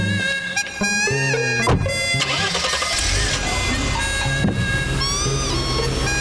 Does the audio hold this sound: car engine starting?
yes